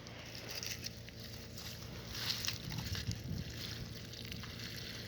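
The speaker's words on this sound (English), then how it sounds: "The water's flowing out of that tank." Water draining out of a tank while a cabin is winterized, a steady low wash and trickle with faint sloshing, fairly quiet and continuous, no voices.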